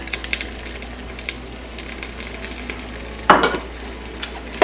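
Boiled peas and carrots sizzle and are stirred in a hot wok for egg fried rice, with a soft continuous frying hiss and scraping. One louder clatter of the utensil comes near the end.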